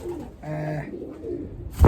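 Soft, low pigeon coos murmur up close in a loft for a couple of seconds, ending with a brief louder rustle.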